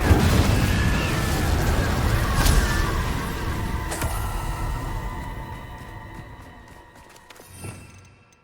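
A fire spell in the wizarding game Hogwarts Legacy erupts in a loud, booming blast that slowly decays, followed by a few sharp pops and a smaller burst near the end.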